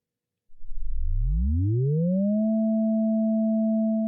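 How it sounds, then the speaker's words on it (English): A pure, steady electronic tone glides smoothly upward in pitch from a low hum, then settles and holds at a constant 220 Hz, the note A3. "speed up the signal to repeat 220 times per second, the frequency of the music note A3"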